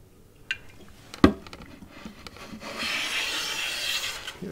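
A hand plane takes a very light cut across wood, giving a soft rasping shave that swells into a sustained scrape, with a few sharp knocks and taps just before it.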